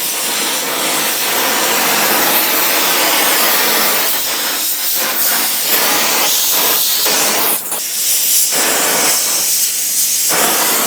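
Torch flame roaring steadily while heating a car brake caliper during a slider pin repair, a loud continuous hiss with brief surges and dips as the flame is moved, no talking.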